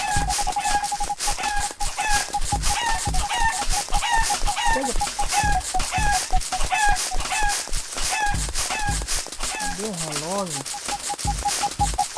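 Repeated chicken clucks and a rooster crow in the video game Super Egg Hunt mix with rapid game sound effects and a talking voice, busy and loud throughout.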